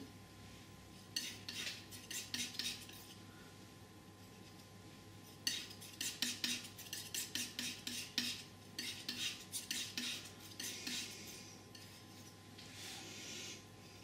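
A palette knife mixes burnt sienna and yellow oil paint, giving close, crisp scraping and tapping strokes in rhythmic bursts with quiet pauses between.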